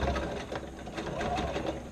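A sewing machine top-stitches over the flap of a shoulder bag, running in a quick, steady series of close, evenly spaced stitch pulses for two seconds without a break.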